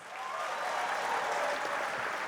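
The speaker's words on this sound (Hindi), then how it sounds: "जब मैं नाम बोलूं तो प्लीज आप तालियां बजाइएगा" Sustained audience applause at a literary festival event in Hindi cinema, a dense wash of clapping that swells in quickly and holds steady and loud throughout, with no voices over it.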